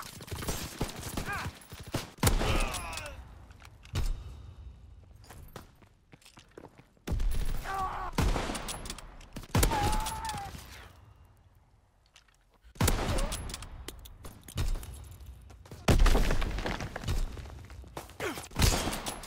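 Gunfire in a first-person shooter team deathmatch game, several loud close bursts of automatic fire separated by quieter stretches, with scattered thumps and effects in between.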